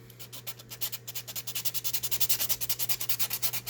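Sandpaper rubbing varnish off a wooden stock from a kit-built revolver, heard as a steady run of quick rhythmic back-and-forth strokes that grow louder and more even, close up with no talking.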